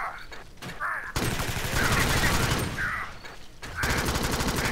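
Rapid gunfire from the top-down co-op shooter Alien Swarm Reactive Drop crackles in dense bursts alongside game effects, with players talking over the action.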